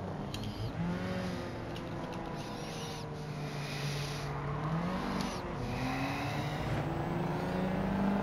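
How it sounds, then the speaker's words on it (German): Engine of a Ford Roadster in Gran Turismo 7, played with a steering wheel: a steady, loud droning note that rises and falls with revs, shifting pitch mid-run and continuing throughout without speech. "Ford Roadster. Geiler Sound."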